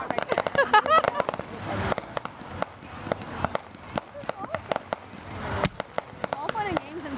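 Fireworks bursting over a Goa beach: a rapid series of sharp cracks and bangs with crackling, close and loud, while people talk throughout.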